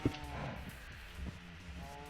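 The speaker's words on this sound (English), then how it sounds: "And the beefalo are taking over." Beefalo in a NeoTech video game session give a loud, low bellowing moo at the start, followed by softer lowing calls and faint background game sounds.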